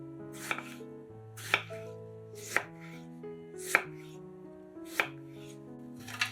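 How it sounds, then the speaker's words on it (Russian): A knife slices through a tomato onto a board, with six evenly spaced sharp taps over soft background music. "1 помидор разрезаем пополам и нарезаем пластинками."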